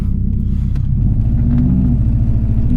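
Subaru WRX engine on the move in freezing weather, a loud, steady low rumble with the flat-four's throbbing burble, rising slightly in pitch as it pulls, heard from inside the car with no talking.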